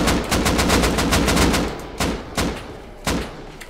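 Gunfire in the survival game Rust: a rapid string of loud, close shots at first, then slowing to a few separate sharp cracks spaced apart, with no talking over them.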